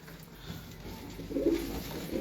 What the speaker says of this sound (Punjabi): ਦੇਖੋ ਤੁਸੀਂ ਸੁਰਖੇ ਕਬੂਤਰ